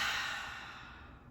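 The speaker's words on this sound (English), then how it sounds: "Open mouth, exhale." A single open-mouthed exhale during a yoga breathing exercise, a soft breathy rush that starts fairly strong and slowly fades over about a second, close and alone.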